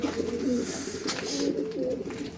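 Pigeons coo repeatedly in low, throaty rolls close by, over a busy background of rustling and fluttering, one pigeon with an injured foot.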